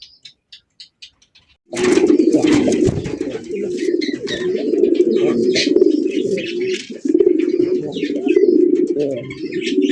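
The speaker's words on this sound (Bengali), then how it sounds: "জোড়া বোম্বাই কবুতর আপনারা তো দেখলেনি কত সুন্দরভাবে ডাকাডাকি করে" Bombay pigeons coo steadily and close by in a continuous throaty burble, with faint chirps above, after a brief quiet start.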